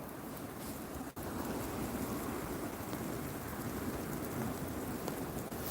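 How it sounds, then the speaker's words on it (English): Hail pelting down amid steady rain during a thunderstorm outdoors, a dense continuous broadband patter throughout with no voices. "Just stop getting pelted with hailstones."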